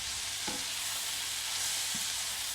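Maple ham jam frying in a pan gives a constant loud hiss and sizzle, broken by a couple of brief stirring scrapes from the utensil, with no voices.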